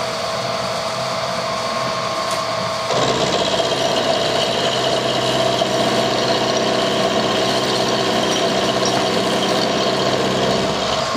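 A lathe cuts a high tensile spool with a blunt cutter. A steady mechanical drone turns louder and harsher a few seconds in, then holds as a continuous machining hum without talk.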